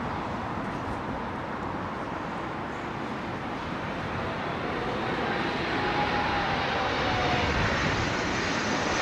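An airliner on final approach to London Heathrow runway 27L passes overhead, a broad steady engine roar that slowly swells louder over about nine seconds, with no talk.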